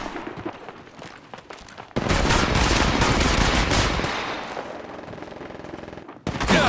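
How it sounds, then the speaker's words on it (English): Loud, sustained automatic gunfire erupts in Apex Legends Mobile after a quieter opening. Dense rapid bursts carry on for several seconds, fade, then cut back in sharply at the end. "Getting shot at."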